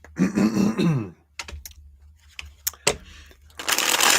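A short burst of speech, then scattered soft clicks and riffles of cards being shuffled, ending in a dense papery flutter.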